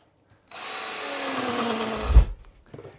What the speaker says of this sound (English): I've got the right angle drill, so I have the privilege of getting in there pretty tight in order to angle that hole.